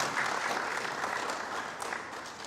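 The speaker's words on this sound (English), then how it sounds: "let's give Stephen another round of applause." Audience applause at a tech forum, a dense round of clapping from a crowd, steady and fairly loud before tapering off slightly near the end.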